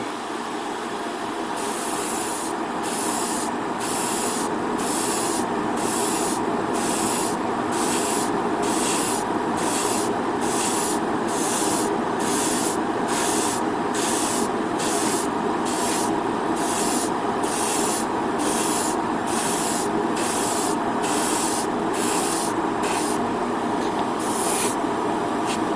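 An airbrush sprays metallic reflective paint onto a 1/100 Master Grade Freedom Gundam model kit, a steady close hiss lasting the whole stretch, chopped into regular short pulses by repeated trigger bursts.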